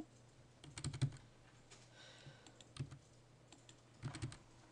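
Quiet clusters of key presses on a computer keyboard as a short command is typed, with a few quick taps in bursts separated by brief pauses.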